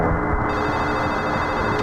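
A telephone rings steadily in the video game Silent Hill 4: The Room, a continuous electronic ring sitting over a dense, noisy ambient backdrop with no speech.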